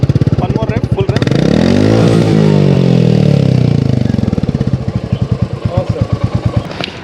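Up close, a Royal Enfield Classic 350 motorcycle engine is revved hard, rising into a sustained full-throttle roar for a couple of seconds before dropping back to its loud, pulsing single-cylinder idle.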